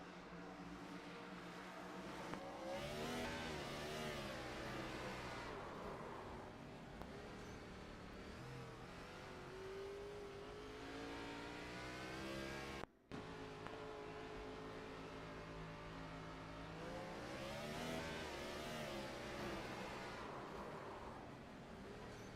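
Race car engine in an iRacing oval race, revving hard with rising and falling pitch and tire spin, loud and close with a brief cut near the middle.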